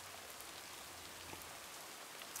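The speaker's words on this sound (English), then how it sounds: "And it's very, very rainy." Heavy rain falling as a steady, soft hiss of dense drops with a faint low rumble beneath, constant and unbroken throughout.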